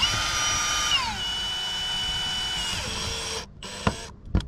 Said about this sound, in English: I put a bigger screw in. Hopefully it works.